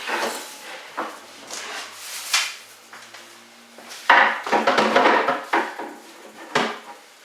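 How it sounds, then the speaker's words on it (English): Knife cutting through an onion on a wooden board for a broccoli cheddar salad, with irregular close thuds and knocks and a brief scraping passage, loudest near the end. "we'll go ahead and cut our onion"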